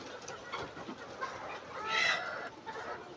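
Chickens clucking at a poultry farm in the Philippines, a flock of overlapping soft clucks and calls, close and low in level over a faint background murmur.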